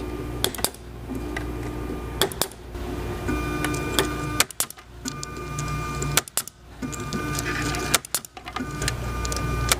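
A pneumatic ribbon wire cutter machine runs nearby, a mechanical whirr broken by repeated sharp clunks and hissing bursts at irregular intervals of about one to two seconds.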